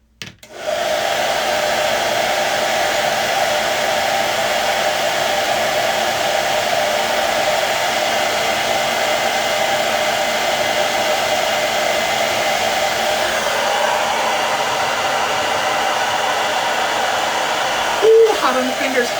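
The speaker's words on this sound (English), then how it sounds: "So I'm gonna use a hairdryer. It's gonna get a little loud." A hair dryer on its hot setting blows loud and steady for most of the clip, a constant close whooshing roar that cuts off near the end.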